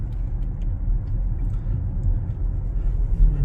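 Toyota Mirai hydrogen fuel cell car accelerating, a steady low road rumble and muffled cabin hum with no engine note, even and continuous throughout.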